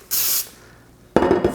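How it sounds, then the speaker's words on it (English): Two short bursts of aerosol cooking spray hissing into a pan, the first a clean spray, the second louder and rougher, close by. "We use pan spray."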